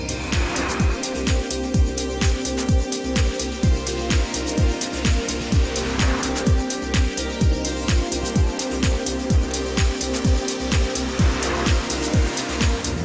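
A 2011 Opel Astra Sports Tourer 1.7 CDTI Cosmo turbodiesel driving on the road, with a steady engine and road hum and a regular rhythm of repeated thumps from the tyres, continuous and fairly loud with no voices.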